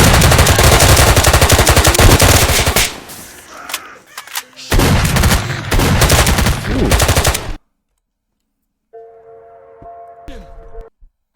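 Loud bursts of rapid gunfire from the video game F.O.T.O.G.R.A.F., a sustained volley, a pause, then a second heavy volley, followed by silence and a faint tonal game sound.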